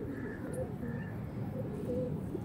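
Low, repeated pigeon coos fill a loft, soft and close, with faint voices murmuring in the background.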